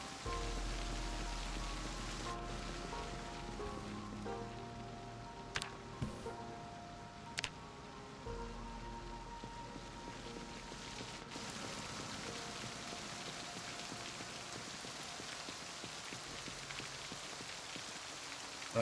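Rain falling in Project Zomboid, a steady patter of raindrops on surfaces with a continuous wash of water, moderately quiet, joined by a few brief clicks and thuds of gameplay.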